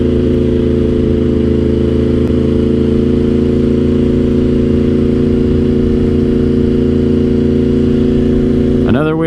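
A Yamaha R1 motorcycle holds a steady engine drone while cruising uphill in fourth gear at about 40 mph, loud and continuous with constant harmonic tones, and a brief rising rev appears at the very end.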